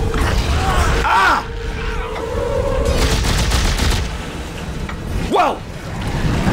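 Gunfire in the video game Dead Space during a reactor overload sequence, dense rattling bursts over heavy machinery hum and swooping mechanical whines, with a voice talking over it.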